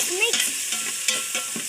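Onions and chillies fry in a pan with a steady close sizzle and a few soft stirring scrapes, and no voice is heard.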